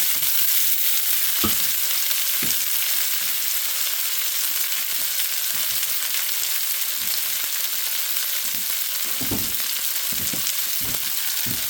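Food browns in a skillet for southern skillet potatoes with onion, giving off a loud, continuous sizzle. A few soft stirring taps and knocks break through the steady frying hiss.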